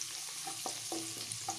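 Vegetables frying in a pan for egg fried rice, a soft close sizzle with a few brief spatula taps and scrapes over just under two seconds, quiet, with no one talking.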